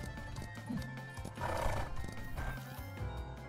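Video game horse from Ranch of Rivershine galloping in a race, with steady clip-clop hoofbeats and repeated neighs and whinnies, loud and close throughout with game music or ambience underneath.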